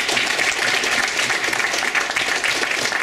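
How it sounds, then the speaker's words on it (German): Dense, steady applause from a concert audience for a band from Karl-Marx-Stadt, loud and close, continuing evenly for the whole stretch with no talking. "da haue ich doch jetzt mal so einen 5er-Applaus raus für die Jungs aus Karl-Marx-Stadt und das hört sich so an."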